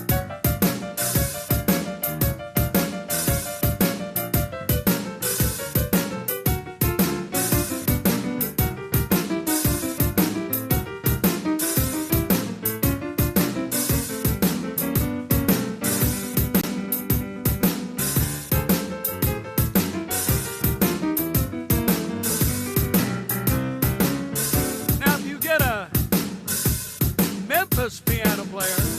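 Chicago-style blues piano plays We Three Kings in a choppy, percussive manner, with dense chords and steady hammered rhythm throughout, loud and close with no talking.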